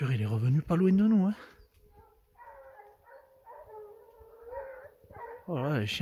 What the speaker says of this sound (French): Oh là, les chiens arrivent de nouveau là.